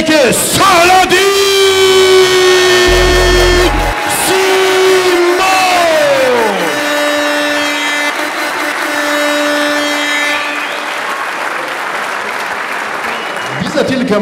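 A boxing-arena crowd cheers and applauds as the boxer Saladin is welcomed into the red corner before a WBU welterweight European title fight. The loud, sustained roar runs throughout, with a drawn-out voice and music-like tones over it early on.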